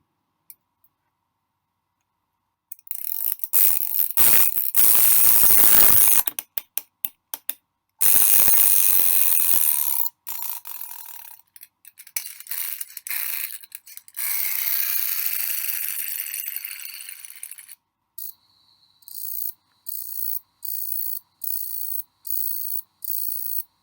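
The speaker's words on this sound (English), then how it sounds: "we hear weird wind-up sounds in the shrubs that evening." A shrill, buzzing insect call from shrubs on a warm summer evening winds up in long bursts, then breaks into a steady series of short evenly spaced pulses, loud and close.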